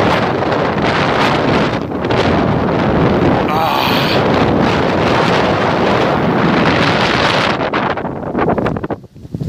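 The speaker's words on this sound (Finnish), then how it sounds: "Ei jumalauta, että tuulee." Strong wind roars through trees outdoors, loud and continuous, with heavy gusts buffeting the microphone and a rushing, rustling texture throughout.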